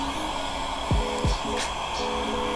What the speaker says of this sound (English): This little heat gun, just put it on hot